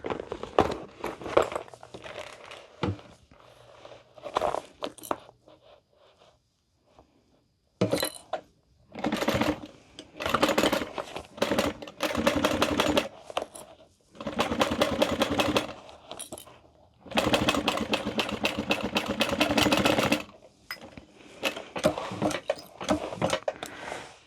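A sewing machine stitches the clipped-together sides of a Mr. Heckles handbag, running in several loud bursts separated by short pauses.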